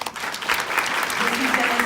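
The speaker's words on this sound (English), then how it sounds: "please join me in giving them a big round of applause." Audience applause swells and holds steady, a dense wash of clapping from a crowd.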